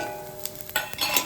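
Whole spices and dry fruits fry in hot ghee in a pan, giving a soft continuous sizzle with light stirring and a few faint utensil clinks, close and alone without talk.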